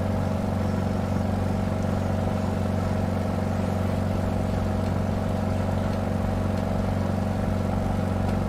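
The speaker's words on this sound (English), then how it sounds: "the noise of that engine is way too loud." A Beechcraft Model 17 Staggerwing biplane engine in Microsoft Flight Simulator drones loudly and steadily throughout, a constant low hum with no change in pitch.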